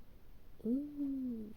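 A cat meowing in the video game Roblox, one drawn-out, falling meow heard faintly over a low background hum.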